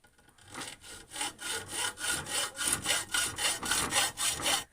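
A hand saw cuts through an aluminium strip being shaped into a part for a homemade fish-hunting spear gun, its rasping strokes repeating in a steady, even rhythm of about a dozen close, loud back-and-forth pulls.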